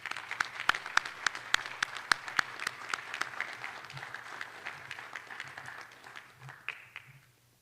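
Audience applause at the Forest Lake FFA banquet and awards program for newly named honorary members: a steady wash of many hands clapping close by, with sharper individual claps early on, tapering gradually over several seconds.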